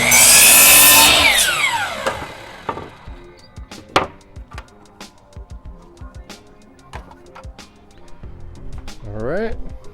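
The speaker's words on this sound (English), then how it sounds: "back at the old trusty saw here." Power saw cutting wood for a cabinet in a 1971 VW bus, a loud whining cut at the start that winds down, then knocks and handling noises with a person talking.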